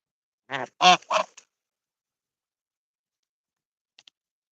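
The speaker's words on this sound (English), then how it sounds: "He's a mix between a Chinese goose and a Canada goose." A few quick, hoarse honks in a burst from a hybrid Chinese goose and Canada goose, close and loud, then a faint tick after a pause of silence.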